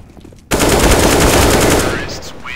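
Gunfire in CS:GO breaks out suddenly as a loud, sustained automatic burst of rapid shots that runs about a second and a half before fading off.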